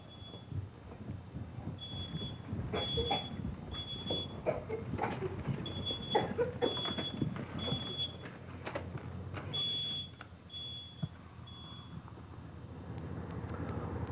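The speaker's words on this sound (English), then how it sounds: "The smoke alarm went off" A smoke alarm beeps in short, regular high-pitched bursts, sounding somewhat distant, with a muffled rumble of movement underneath.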